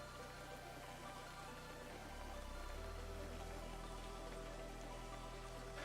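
Steady stereo rain effect in a Godot-built game, a continuous hiss of falling drops with a low droning bed beneath, loud and unbroken throughout with no voices.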